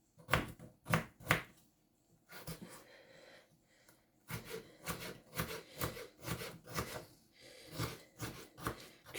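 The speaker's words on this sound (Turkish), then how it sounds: "küçük küçük doğruyoruz patateslerimizi" Knife chopping potatoes into small pieces on a cutting board in a home kitchen: bursts of quick, sharp, close taps in rapid runs separated by short pauses, with faint rubbing and scraping between cuts.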